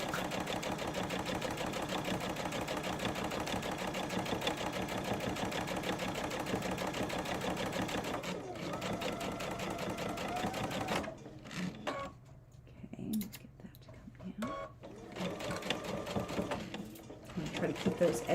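A sewing machine stitches a channel for elastic, a long continuous run of fast mechanical chatter that breaks into shorter stop-start bursts toward the end, with a voice talking softly in between.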